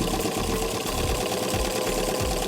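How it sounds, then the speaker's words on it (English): A sewing machine runs a continuous top stitch around the curved brim of a fabric cycling cap, a loud, steady, close mechanical whir with a rapid rhythmic chatter. "we're just going to run a top stitch around the arc"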